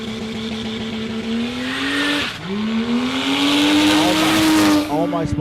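A ute launches down a drag strip at Warwick Dragway with its engine note climbing through a gear change, a tyre squeal and loud revving nearby, while a commentator talks over it.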